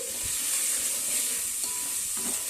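Sliced onions with turmeric fry in a pan as a mutton curry is prepared, giving a steady close sizzle and occasional scrapes of stirring, with no voices.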